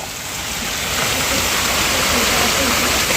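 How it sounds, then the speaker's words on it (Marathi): Heavy monsoon rain pours steadily off a house roof and terrace, a dense, loud, continuous rush of water that builds slightly over the first second and then holds unbroken. "चला तुम्हाला सगळ्यांना पाऊस दाखवते मी हे बघा पाणी गळत आहे वरतून"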